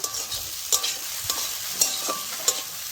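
Spices fry in a pan while being cooked with rohu fish roe, a constant crackling sizzle overlaid by rhythmic spatula scrapes and taps against the pan, close and fairly loud, without speech.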